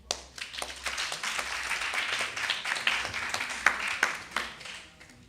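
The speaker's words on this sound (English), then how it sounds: "clap him now" A room full of people clapping for Mr. Williams at a school patois debate, brisk dense handclaps building quickly and holding strong, with a few sharper individual claps standing out near the microphone.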